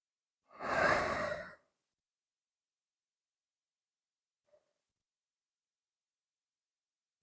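A single slow, deep, audible exhale is heard during a shoulder-opening stretch, close and breathy, followed by near silence with only a faint tiny click later.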